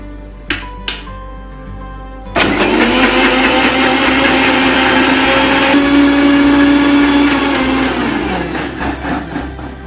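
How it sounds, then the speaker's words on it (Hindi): An electric kitchen blender loudly grinds spiced buttermilk with black pepper powder, whirring steadily for several seconds after a couple of clicks before winding down. "और इसको मैं अच्छी तरीके से ग्राइंड कर लूंगा।"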